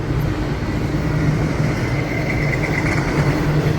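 Steady low rumble of trains passing in Folkston, Georgia, a continuous rolling drone with a faint higher whine, moderately near and without talk.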